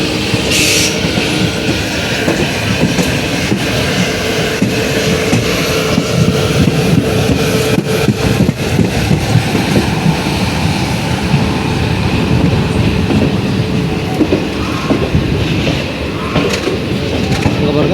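The Jan Shatabdi Express from Coimbatore to Mayiladuthurai rolls into Trichy Junction, heard from on board as a constant loud rumble and rattle of the carriage, with muffled voices mixed in.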